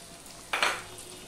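Green chillies, both fresh and ripe, and tomato hit hot oil in a frying pan with a short burst of sizzling that flares up and then settles into a low steady fry.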